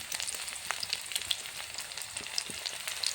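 Chopped carrot and cauliflower bhaji fries in a hot wok, a continuous close sizzle dense with fine crackles and spits throughout, with no talking.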